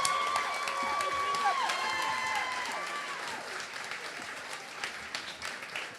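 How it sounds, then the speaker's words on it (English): Audience applause for student performers at an outdoor school jazz concert in the Bronx, a continuous wash of clapping and some cheering from a crowd, heard alongside voices that talk and call out over it. "So, one more time, I want to give them a round of applause."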